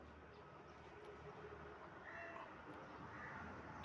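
Faint domestic cats meow softly in a quiet indoor space, with a couple of thin cries over a low background rumble.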